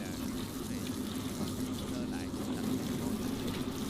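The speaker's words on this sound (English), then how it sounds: "but the chef rinsed it again." Steady running water pours continuously as a chef rinses squid at a Hong Kong seafood market, a dense, even rush filling the whole stretch with no break.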